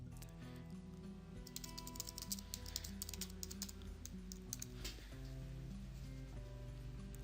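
Rapid keystrokes on a computer keyboard as a file name is entered, a steady close patter of clicks running continuously over a low background hum, with no voices.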